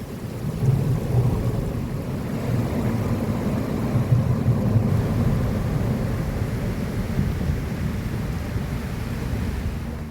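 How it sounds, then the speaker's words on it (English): Heavy rain pours steadily on a houseboat in a dense, continuous roar with a deep rumbling undertone, loud and unbroken throughout with no voices. "And it's really raining."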